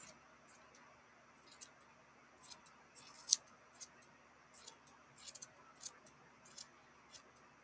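Scissors snip through pom pom yarn in a string of short, crisp cuts, some single and some in quick pairs, close and fairly quiet against a soft background.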